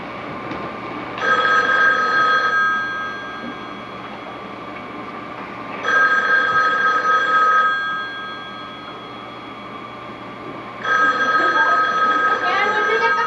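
Telephone bell ringing indoors in a home, three long electric rings separated by pauses, loud and close with a steady low hum beneath.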